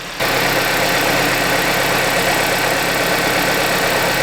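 A Kia 2.4L GDI car engine idles steadily and evenly after a spark plug replacement, a constant low hum with no sputter, close by and loud throughout.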